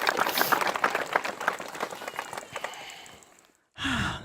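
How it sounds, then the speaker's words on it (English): Wedding guests at a ceremony break into a round of applause, dense overlapping clapping that gradually fades out, followed after a brief pause by an audible collective sigh. "Round of applause, everyone."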